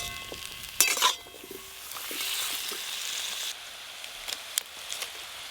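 Bottle gourd greens with brinjal and potato fry in a pan, a steady crackling sizzle with a few clatters of stirring and spoon knocks against the vessel, close and without talk.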